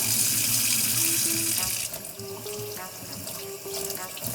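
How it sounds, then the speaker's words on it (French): A kitchen tap runs water into a sink to rinse away fish blood, with a steady broadband wash that is loud at first and quieter after about two seconds, plus faint clatter and tonal sounds in the background. "Après, vous rincez votre évier"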